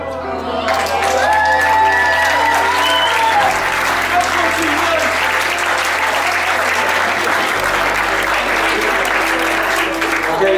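Wedding reception guests at a Best Western in Doncaster burst into loud, sustained applause with cheering and whoops, a dense crowd roar filling the room while voices shout over it.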